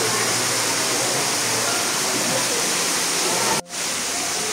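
Water gushes steadily from a spring at the Padre Pio shrine in Batangas, a dense, constant rushing wash that breaks off abruptly for a moment near the end.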